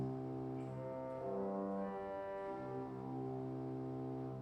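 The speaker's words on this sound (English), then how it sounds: "Nice big edgy sound in the pedal division there." Sustained deep tones from the pedal division of a 1931 M.P. Möller pipe organ hold a rich, buzzy low chord that shifts slightly partway through, steady and fairly quiet.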